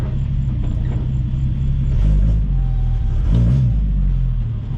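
A 1965 Ford Mustang restomod's engine rumbles steadily from inside the car while driving, loud and low with slight swells as the throttle changes.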